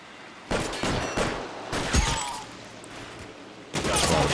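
Rifle fire in the video game L.A. Noire comes as several sharp, loud bursts, with a pause between them and a final burst near the end.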